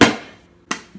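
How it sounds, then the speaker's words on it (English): Hammer blows drive a screw through the bottom of a galvanized metal pot to punch a drainage hole, giving one sharp metallic strike with a ringing decay, then a second hit and a softer third tap. "The screw and the hammer is what we're gonna be using for our drainage holes."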